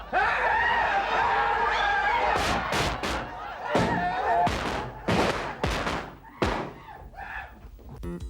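Firecrackers catching fire in a heap, giving a rapid series of loud, sharp bursts and cracks that start dense and thin out into scattered pops, with some voices mixed in underneath.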